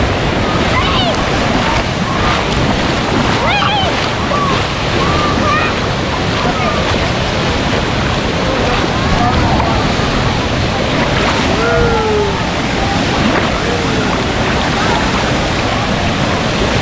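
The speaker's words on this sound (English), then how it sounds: "we're gonna check out the wave pool. It's very wavy right now." Loud, continuous rush of churning water and crashing waves in the wave pool at Volcano Bay water park, with distant voices and shouts blending into the roar.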